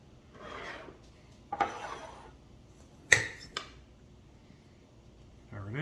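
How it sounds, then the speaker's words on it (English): Bread dough is dumped onto a work surface and kneaded by hand, producing soft scraping rubs and a few dull thumps and slaps spaced across the clip, close and fairly quiet, with brief speech. "I'm about to dump it out onto my surface and knead it for exactly 7 minutes"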